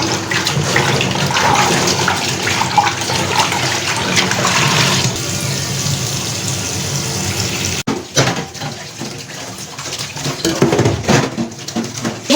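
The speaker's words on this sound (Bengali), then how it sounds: "এখন রুই মাছ রান্না করার জন্য হচ্ছে মাছগুলো ধুয়ে নেব ভালো মতো" Rohu fish are washed in water in a kitchen: running water splashes and sloshes with clinks of a pot or bowl, loud and close, turning to more scattered splashing and handling toward the end.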